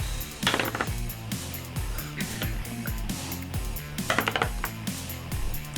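Dice tumble and clatter across a table during a tabletop role-playing game, a bright, steady rattle of small hard objects heard over continuous background music.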